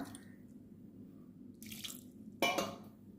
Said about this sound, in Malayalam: ഇനി വേവാൻ ആവശ്യമായ കുറച്ച് വെള്ളവും കൂടി ഒഴിച്ചു കൊടുക്കാം